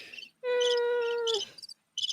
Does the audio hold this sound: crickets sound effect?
yes